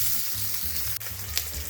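Two bangda (mackerel) fish fry in a pan with a steady, close oil sizzle, broad hiss and faint crackle throughout, with no voices present.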